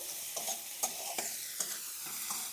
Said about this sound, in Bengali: ওই তেলেই আমি এই যে আদা কটা একটু ভেজে নেবো